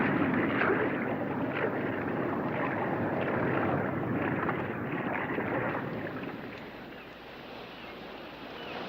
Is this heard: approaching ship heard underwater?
yes